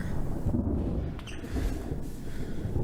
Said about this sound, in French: il y a du tonnerre vraiment